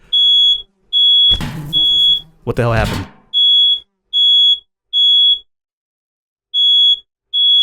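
Piercing, regular smoke alarm beeps in the game Fallout, shrill pulses repeating about once a second, briefly interrupted by a man's startled speech.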